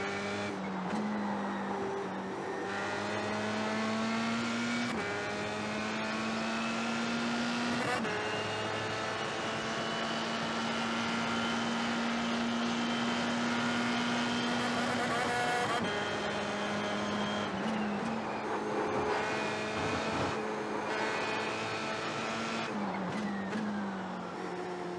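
Simulated racing car engine from a driving game played on an entry-level C5 direct drive wheel, revving steadily with rising and falling pitch through gear changes, loud and continuous throughout with no talking.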